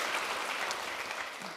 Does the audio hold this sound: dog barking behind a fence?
no